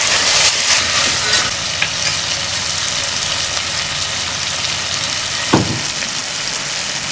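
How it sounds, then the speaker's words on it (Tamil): Constant loud sizzling of tomatoes and onions sautéing in a pan, with an occasional scrape of stirring, nearby and without talk. "சேர்த்து எல்லாத்தையும் நல்லா வதக்கிடலாம்"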